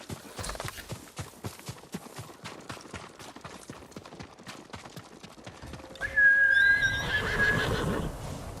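Horse in Ghost of Tsushima, a steady clip-clop of hooves over several seconds, then a loud neigh and whinny near the end, with a faint whistle-like tone.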